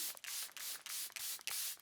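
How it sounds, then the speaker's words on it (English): Charlotte Tilbury Airbrush Flawless setting spray is misted over a face in about six quick, close hissing bursts, each a short airy spritz separated by brief pauses, no talking. "we're gonna do a layer of the Charlotte Tilbury Airbrush Flawless Setting Spray, just all over the skin"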